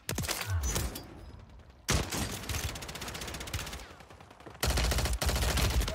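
Gunfire in the Warzone 3 video game, including the MP40 submachine gun: dense bursts of rapid automatic shots in loud clusters, separated by brief pauses and layered with in-game effects, with no talk.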